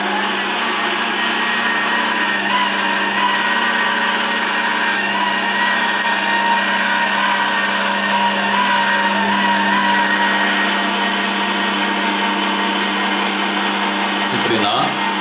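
Electric juicer or blender running with tangerines inside, a loud steady motor whine and hum held continuously, with a short change in tone near the end.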